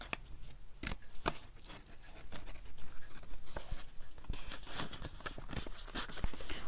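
Paper envelope being stuffed with an item that catches on the bottom edge, giving repeated close scraping and rustling with sharp crinkly bursts throughout; no one speaks.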